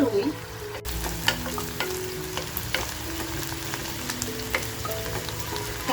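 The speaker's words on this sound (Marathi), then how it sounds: "इकडे आपलं मटण सुद्धा बघा फ्राय होत आहे." Mutton fries in a hot pan with a dense, steady sizzle and crackle, broken by a sharp clatter of stirring near the start and scattered pops throughout. It sounds close, with no voices.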